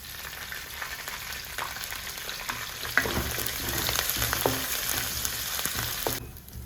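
Grated coconut and curry leaves frying in a pan on the stove for vendakkai kara kuzhambu, a steady close crackling sizzle with a few sharper pops, continuous and fairly loud with no talking.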